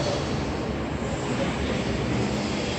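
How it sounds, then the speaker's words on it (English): A propeller airplane flies overhead, a loud continuous engine drone that stays steady and close for the whole stretch, with no talk over it. "I'm sorry about the plane."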